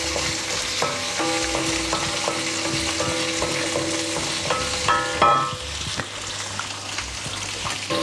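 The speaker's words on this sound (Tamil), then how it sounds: "எல்லாத்தையும் போட்டுட்டு நல்லா வதக்கலாம்" Chillies, garlic and shallots sauté in hot oil for a sambar and coconut-peanut chutney, giving a steady crackling sizzle with repeated scraping stirs of a utensil in the pan. The sound is near and continuous, with no voices.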